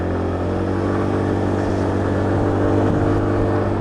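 A Lexmoto Titan motorcycle, just back from repair, drones steadily while being ridden with revs held around 1500, its loud, even engine note blended with constant wind rush at the rider's ear.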